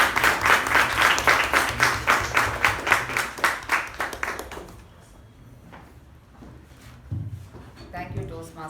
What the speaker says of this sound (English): With a big round of applause, I request you to welcome our President